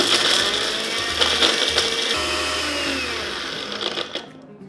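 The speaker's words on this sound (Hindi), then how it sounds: "अब इसको तोड़ के हम वापस ब्लेंडर में डाल के वापस से ब्लेंड करेंगे" A blender grinds a crisp air-fried mixture into powder, giving a loud, steady whirring roar with rattling bursts. The motor winds down near the end.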